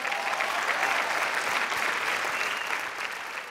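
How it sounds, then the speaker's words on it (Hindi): A studio audience applauds for a contestant on a television talent show, steady dense clapping throughout, fairly loud and alone. "विजय के लिए एक जोरदार ताली"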